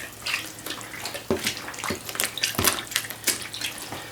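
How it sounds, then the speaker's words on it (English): Yarn being pressed down into a basin of water to soak before dyeing, with close sloshing and splashing in uneven bursts and no voices. "And then I push the yarn down into the water so that it soaks properly."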